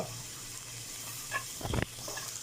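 Spice powders are mixed into onions frying in a pan for a tuna dish, giving a soft, continuous sizzle with a few scraping stirs of the spoon near the end. The cooking is quiet and close, with no talking.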